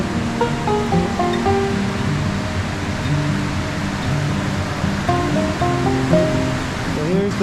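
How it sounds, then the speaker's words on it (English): Lots of water rushes through a salmon fish ladder at the Totem Pole Heritage Site in Alaska, a steady broadband roar throughout, with faint tonal sounds in the background. "A lot of water coming through."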